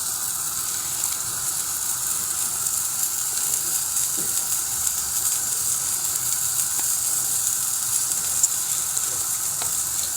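Water poured over sautéed ingredients in a pot for a meat and dried bean casserole sizzles steadily and loudly, a constant frying hiss close by with no talk.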